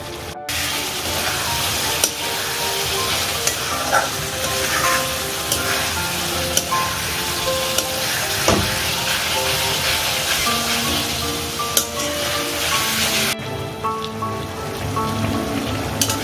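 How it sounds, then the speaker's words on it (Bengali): Chicken with whole masoor lentils being sautéed in a pan, heard as a dense, continuous loud sizzle and crackle lasting throughout, with occasional stirring knocks and no talk over it. "এটা একটু কষবে, এটা একটু কষার পরে তারপর আমি গরম জল দেবো"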